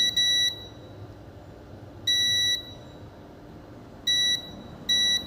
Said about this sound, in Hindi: देखिए यहाँ पे एक कंपोनेंट से शायद बजर आ रहा है।